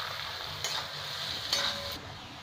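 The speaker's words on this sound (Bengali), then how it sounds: "পেঁয়াজ আমার ভাজা হয়ে গেছে।" Two large chopped onions frying in spiced oil for butter chicken give a soft, steady sizzle, broken by a couple of brief scraping stirs of the spoon against the pan.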